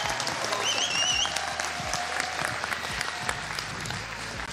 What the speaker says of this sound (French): Et si on s'applaudissait un petit peu? Allez, on s'applaudit un petit peu, on se chauffe.